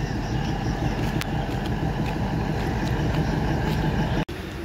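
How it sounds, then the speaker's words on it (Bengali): A DEMU diesel multiple-unit train at Bamanhat railway station in India, a steady loud engine rumble and hum that runs continuously, with a brief dropout near the end. "এই যে হচ্ছে ডেমু ট্রেন, মানে এটি সরাসরি শিলিগুড়ি চলে যাবে।"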